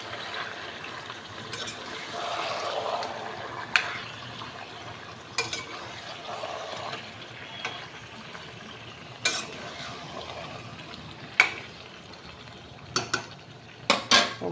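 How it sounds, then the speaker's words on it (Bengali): Country chicken meat being stirred and sautéed in a pot, with a soft continuous sizzle under repeated scraping and clinking of a utensil against metal, the knocks getting sharper and more frequent toward the end. "এবার মাংসটা কষাতে হবে।"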